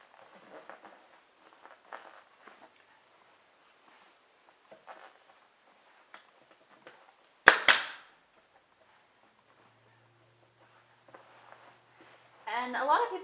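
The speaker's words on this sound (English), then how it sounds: "And I'm going to staple over here." One sharp, loud snap of a staple gun driving a staple through upholstery fabric on a padded dining chair back, amid quiet handling noises and soft speech, with another rustle near the end.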